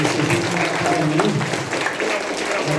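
An audience at a school ceremony marking the anniversary of Poland's 3 May Constitution claps for the student actors, a dense, close burst of applause with a voice speaking over it.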